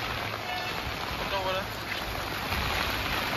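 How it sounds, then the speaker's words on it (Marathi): Floodwater rushes steadily into Achole lake in Nalasopara during torrential monsoon rain, a dense, unbroken roar with a faint voice briefly audible underneath. "नदीच, बाहेरचं पाणी पूर्ण तलावामध्ये जात आहे"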